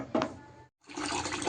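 Water swishes and pours as soaked grains for Hyderabadi-style haleem are rinsed, with a splash, a brief pause, then a steady rushing pour close by.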